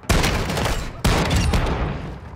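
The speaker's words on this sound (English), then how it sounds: "God, this is a horrible shotgun." Shotgun firing in the Call of Duty DMZ video game, two loud booming blasts about a second apart, each with a heavy sustained tail, very close.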